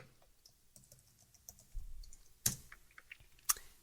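Computer keyboard and mouse clicks at a desk: faint scattered taps, then two sharp, close clicks about a second apart standing out from a quiet room.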